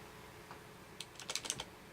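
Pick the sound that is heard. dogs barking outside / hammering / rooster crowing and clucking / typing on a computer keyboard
typing on a computer keyboard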